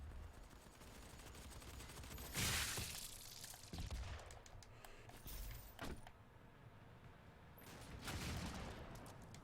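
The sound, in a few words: super shotgun firing in the Doom beta video game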